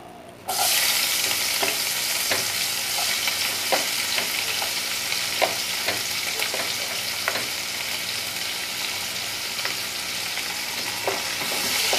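Chopped onions hit hot oil for a rohu fish curry and break into a loud, steady sizzle right away, with occasional clinks of a stirring utensil against the pan.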